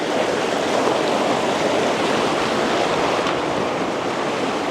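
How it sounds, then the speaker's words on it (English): Roar of a creek rushing through a canyon, a dense continuous wash of loud, close water noise with no voices over it. "I don't know if people can actually hear me through the roar of the creek."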